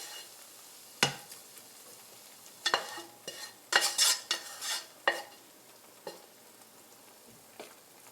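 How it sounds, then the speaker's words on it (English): A spinach mix is added to an omelet cooking in a pan, giving a faint background sizzle with scattered scrapes and clinks of a utensil against the pan, some in quick clusters, and no speech. "So now I'm going to add the spinach mix to half of the dish"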